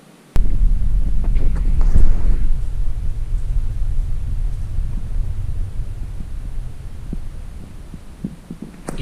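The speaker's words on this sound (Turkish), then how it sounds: "Fırtınanın sesi duyuluyor yani." Steady, heavy low rumble of storm wind in Georgia buffeting the microphone, with a brief gust swell early on and continuous throbbing roar throughout.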